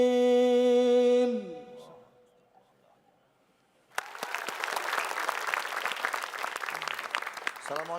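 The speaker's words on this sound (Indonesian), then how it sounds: "Tepuk tangan buat Syamsuri Firdaus" A sustained melodic vocal note ends and falls quiet, then an audience bursts into loud, steady applause for Quran reciter Syamsuri Firdaus, continuing to the end.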